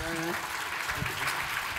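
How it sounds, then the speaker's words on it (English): Keynote audience at the AMZ Innovate conference applauding, a dense, steady wash of clapping lasting throughout, with a voice speaking briefly at the start. "Round of applause for Aaron again"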